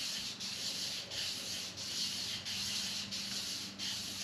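Abrasive honing of a 1957 Chevrolet Bel Air crankshaft journal, a rhythmic rasping rub that repeats about every two-thirds of a second in even strokes, close and moderately quiet with no voices.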